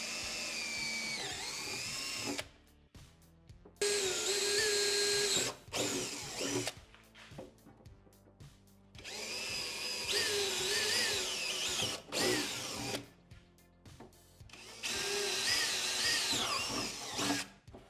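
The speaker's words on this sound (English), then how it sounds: "We'll drill a pilot right here, right in the middle." A power drill bores a pilot hole in the middle of a motorcycle tour pack on a 2024 Road Glide, whining loud and close in several long bursts with brief stops between.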